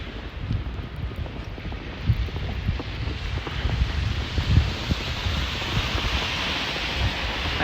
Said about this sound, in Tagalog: Grabe ang lakas kasi ngayon hangin.